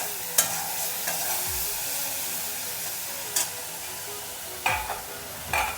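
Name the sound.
prawns frying in oil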